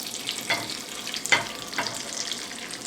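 Eggs fry gently over low heat in a pan while preparing a Denny's Super Slam breakfast, a soft continuous sizzle with a few brief scraping stirs.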